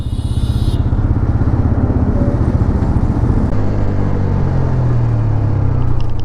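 A 2024 TVS Apache RTR 160 4V dual-channel ABS motorcycle rolls in first gear without throttle, its engine a steady, loud, close low thrum with a slight pitch shift partway through.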